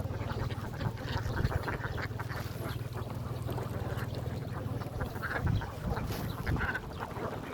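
A large flock of ducks, around four thousand birds, quacks in a dense, continuous chorus close by, loud and unbroken throughout.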